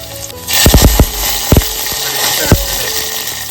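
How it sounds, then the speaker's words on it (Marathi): Garlic cloves hit hot oil for tempering, a loud steady sizzle with a few sharp pops and clicks near the start and a thump in the middle. "इकडे फोडणीसाठी लसूण घालून घेतले"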